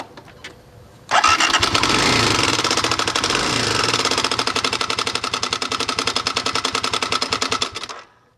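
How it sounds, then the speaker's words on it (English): A small engine found while dumpster diving starts abruptly and runs loud and close with a fast, even chattering beat, then shuts off and fades. "I don't know a lot about engines, but listen to this."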